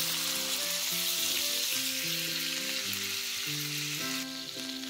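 Tahr meat sears in a hot frying pan with a loud, steady sizzle and crackle, while background music plays underneath throughout.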